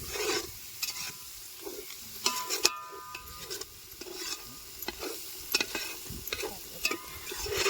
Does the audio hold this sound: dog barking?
no